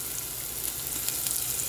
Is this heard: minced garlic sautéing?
yes